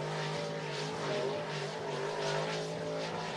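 A dirt track race car roars through a lap at Cottage Grove Speedway in Oregon, its engine a loud, steady snarl that swells and eases slightly as it passes.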